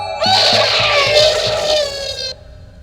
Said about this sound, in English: I always count on the transporter death screeches to wake my ass up.